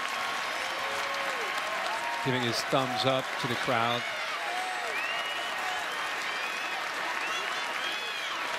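Ohio State fans clapping in a stadium at a college football game against Nebraska, sustained applause throughout while a commentator speaks briefly over it.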